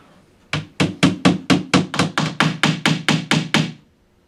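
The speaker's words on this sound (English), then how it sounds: "put the dowel pins in these 4 holes to hold these shelves" Wooden dowel pins are tapped into the holes of a cube organizer shelf panel in a run of about thirteen sharp, evenly spaced knocks, close and clear with no talk.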